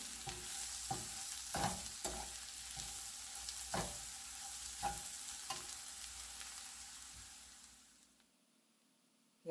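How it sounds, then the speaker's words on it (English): Ingredients for a Kerala fish dish sauteing in a pan, with rhythmic scrapes and clicks of a spoon stirring over a soft sizzle, fading out to near silence at the end. "So you can see here it is nicely sauteed now"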